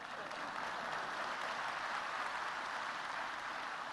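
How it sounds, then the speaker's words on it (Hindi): A crowd applauds at an investor event in Madhya Pradesh (MP Invest): broad, even clapping from a large audience, sustained without pause and heard from some distance, fairly faint overall. "तो इस पे ताली बजाना तो जोर से बजाओ"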